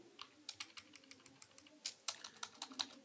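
Keys on a computer keyboard are tapped in quick, irregular clicks, some in rapid clusters, fairly faint and close in a quiet room with no voices.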